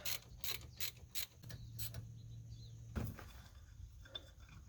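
A socket ratchet clicks in quick bursts while bolts are tightened on the front wheel hub of a 2009 Kia Optima during a wheel bearing replacement, followed by a faint hum, a sharp metallic clank and a few light knocks.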